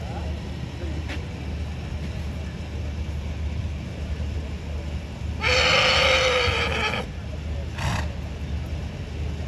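A horse lets out a loud whinny in a show ring, one burst lasting around a second and a half, then a brief shorter call follows, all over steady crowd and ambient noise.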